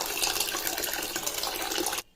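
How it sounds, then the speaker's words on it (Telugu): Water pours steadily into a cooking pot holding horse gram, a close, continuous splashing gush that stops abruptly at the end. "కొన్ని వాటర్ ఎక్కువనే వేసుకోవాలండి."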